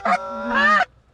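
A single loud, close goose honk in two parts rings out over an open field during a hunt, then cuts off abruptly into quiet.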